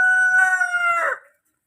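A single native rooster crow, loud and close, ringing out for just over a second before cutting off into silence.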